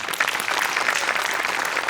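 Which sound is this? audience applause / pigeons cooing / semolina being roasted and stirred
audience applause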